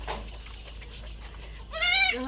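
Goats on a small village homestead farm, with a quiet ambient stretch and then one loud, close, wavering bleat near the end, with no one talking.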